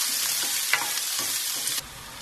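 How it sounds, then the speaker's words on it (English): Onions sautéing in a hot pan after garlic, giving a steady, close broadband sizzle with soft stirring scrapes throughout, alone with no voices. "we're going to saute these onions till they turn translucent"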